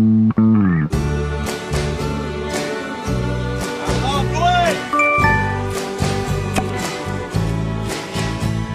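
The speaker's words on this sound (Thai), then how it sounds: "เสียงโทรศัพท์ใคร" A mobile phone ringtone plays loud and close as a bright, tinkling melodic jingle that repeats for several seconds.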